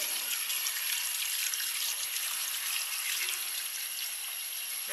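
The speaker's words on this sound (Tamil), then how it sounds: "தண்ணி ஊற்றிடலாம். கொஞ்சம் கூடவே தண்ணி ஊற்றணும்." Steady rushing splash of water pouring continuously into a metal pressure cooker holding cassava, close up and fairly even throughout, with no talking.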